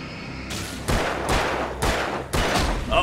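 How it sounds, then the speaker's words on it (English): Gunshots in the video game Alan Wake, set in Elderwood National Park: three or four loud, sharp reports spaced roughly half a second to a second apart, each trailing off in a booming echo, with no talking. "Let me shoot this here. Reload gun."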